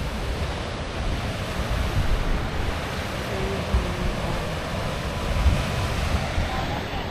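Ocean surf rolls in continuously on Alinga beach, a dense broad roar of breaking waves mixed with gusty wind buffeting the microphone, no voices present.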